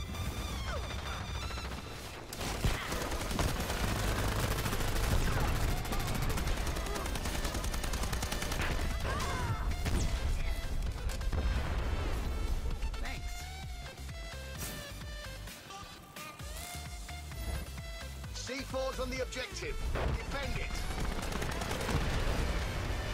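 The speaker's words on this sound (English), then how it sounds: "that grenade launcher! So ridiculous!" A grenade launcher and gunfire in the shooter game Dirty Bomb make a dense, continuous stretch of loud shots, bursts and crashing explosions, heavy through the first half and still busy later, with no talk over it.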